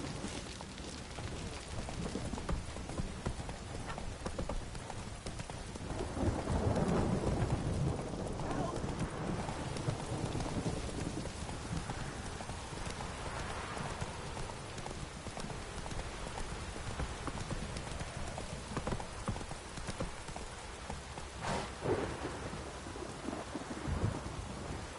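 Horse galloping through a thunderstorm in the video game The Witcher 3, with rapid hoofbeats over steady rain and rumbling thunder, a dense continuous wash at moderate level, with a voice speaking over it.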